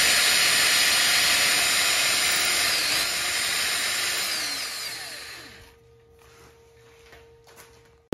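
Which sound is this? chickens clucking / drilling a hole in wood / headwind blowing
drilling a hole in wood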